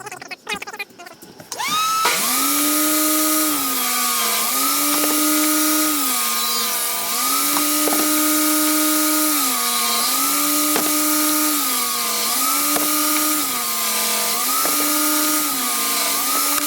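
Power saw cutting 4-inch wooden end cap pieces for a custom planter box, a loud continuous whine that dips in pitch as each piece is cut, repeating in steady cycles.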